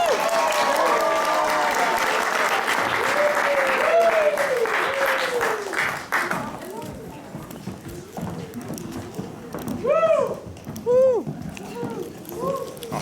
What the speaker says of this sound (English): Clap really loud.